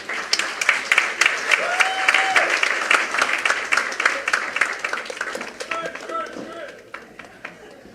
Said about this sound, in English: Can we get another round of applause, please?